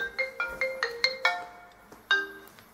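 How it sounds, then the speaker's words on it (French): A mobile phone ringtone plays alone: a bright electronic melody of short repeated tonal notes, fairly close, with a brief pause before a final sustained note. "Excusez-moi, c'est mon téléphone."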